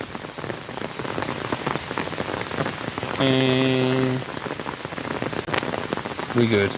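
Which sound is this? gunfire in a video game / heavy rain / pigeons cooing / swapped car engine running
heavy rain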